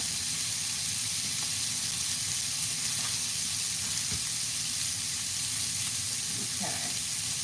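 Smoked sausage sizzling in a frying pan: a constant broad hiss of frying fat with faint scrapes and small pops, steady and close throughout.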